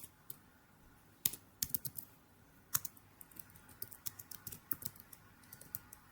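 A computer keyboard clicks in quiet, uneven bursts of keystrokes as a temperature value is typed in, fairly soft and close, with no speech.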